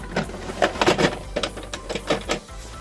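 A bolt being cut while repairing a horsebox, a close, rough series of rasping, uneven strokes repeating for a few seconds.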